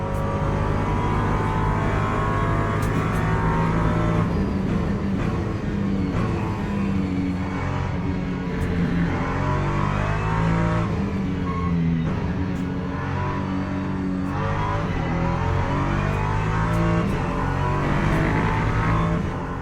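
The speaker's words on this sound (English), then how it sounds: "Little V6 engine singing." A V6 race car engine in the Le Mans Ultimate racing game sings loud and close, revving up through the gears with repeated shifts and throttle lifts, no talk over it.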